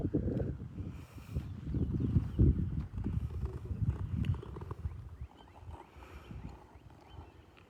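A horse's hooves clip-clop at a steady walking pace on firm ground, fairly close, with light wind noise and a faint voice in the background.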